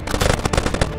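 Quick burst of rapid gunshots in a multiplayer video game, a short close run of several sharp shots in succession, loud and dominant.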